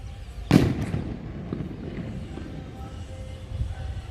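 A loud firecracker bang goes off early during a Ganesh idol immersion festival, followed by scattered fainter pops and crackles from fireworks in the distance over a rumbling background.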